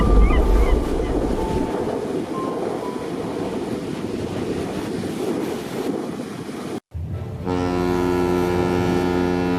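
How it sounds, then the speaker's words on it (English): A professional fishing vessel heads out into deep water off the coast of Peru, with a steady rush of wind and waves against the hull before a brief dropout, then a droning tonal engine hum. "a professional fishing vessel heads into the deep waters off the coast of Peru"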